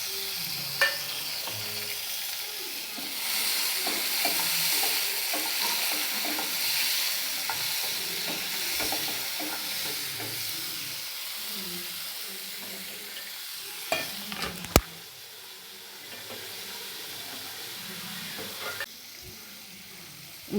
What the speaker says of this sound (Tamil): இந்த தக்காளி நல்லா வதங்கட்டும்.